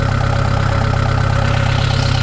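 A 2011 Kubota DC68G combine harvester's engine idling close by, a loud, steady diesel rumble with an even, rapid pulsing throb and no talk over it.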